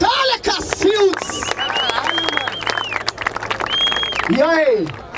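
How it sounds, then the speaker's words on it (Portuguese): A crowd at the Batalha da Aldeia rap battle in Barueri cheers, with loud whoops, whistles and scattered clapping rising and falling over a noisy hubbub of voices. "Palmas pra essa batalha"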